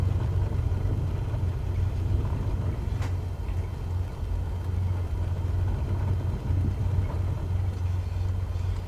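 Steady engine drone of a small single-engine plane taxiing in Microsoft Flight Simulator 2024, a continuous low hum that holds level throughout with no voices.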